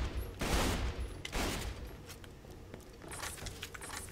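Weapon fire in Borderlands 2: a few loud, dense bursts of shots with metallic mechanical clatter, standing out against continuous game sound.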